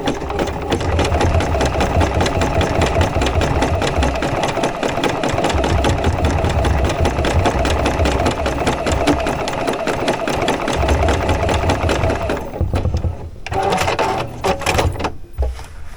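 A sewing machine zigzag stitches around fabric to finish a small fabric bowl, a loud, fast, continuous mechanical whir and clatter that pauses briefly near the end.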